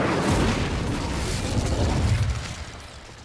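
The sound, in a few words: Incendio fire spell explosion in the video game Hogwarts Legacy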